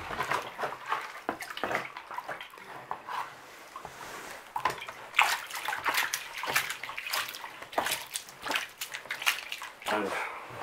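Water sloshes and splashes in repeated swirls while gold concentrate from a shaker gold pan concentrator is panned out by hand, close and steady throughout, with no speech.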